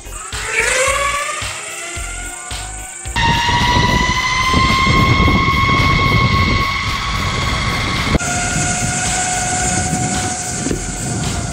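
A Raldey Carbon AT V2 electric skateboard rolls along a road in speed mode 1, its motors giving a steady rising whine over continuous wheel and road rumble, loud and close, with the pitch shifting partway through.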